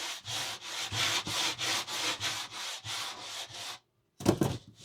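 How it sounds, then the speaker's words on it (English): 100 grit sandpaper rubs on the edge of a scratch-built wooden RC plane wing in quick, even back-and-forth strokes, close and steady, then a short pause and one final rougher scrape. "So I will very gently touch it here with the 100 grit."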